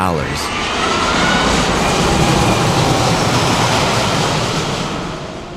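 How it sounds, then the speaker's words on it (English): A Boeing 787-8 Dreamliner private jet's engines give a loud, steady, broadband roar that holds for several seconds before easing slightly at the end. "At number 4 is Russian oligarch Roman Abramovich's Boeing 787-8 Dreamliner."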